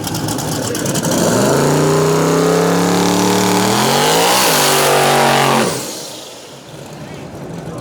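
A twin-turbo 5.3 LS-powered box body drag car with no front end revs hard at a drag strip, its engine note climbing and holding loud and near before cutting off sharply, leaving quieter crowd and track ambience.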